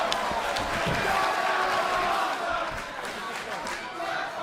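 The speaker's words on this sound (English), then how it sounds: "This capacity crowd at Full Sail University, the NXT universe, buzzing with excitement at the level of competition" A capacity crowd at Full Sail University fills an NXT wrestling event with a steady, loud buzz of cheering and chatter, while a commentator talks over it throughout.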